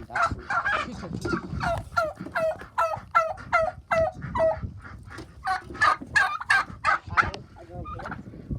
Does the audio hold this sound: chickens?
yes